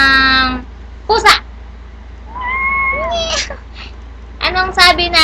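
A voices cat-like meows, imitating a cat, in short rising and falling calls with pauses between, close and clear; an adult also speaks.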